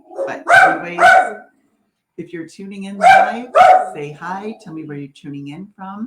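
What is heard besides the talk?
dog barking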